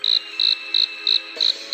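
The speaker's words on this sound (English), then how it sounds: "Crickets?" Crickets chirp in a close, loud, steady pulse of about six evenly spaced shrill trills, with no other sound around them.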